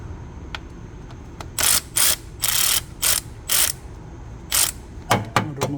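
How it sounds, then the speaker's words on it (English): A hand ratchet loosens an alternator bolt on a 2005 Honda Odyssey: about eight quick bursts of close, sharp clicking, evenly spaced, then a few heavier metallic knocks at the end, over a quiet background. "With this, we're gonna remove this bolt."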